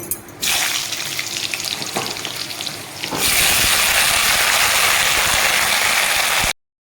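Pumpkin pieces dropped into hot mustard oil with a tempering of five-spice seeds, breaking into a loud, steady, crackling sizzle that fills the rest of the moment after a quieter opening hiss.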